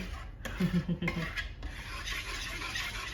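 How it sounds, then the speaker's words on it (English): Oatmeal coconut cookie dough stirred round and round in a bowl, a close rasping, scraping rub with a few knocks of the utensil against the bowl. "Then you mix it again. Going round and round."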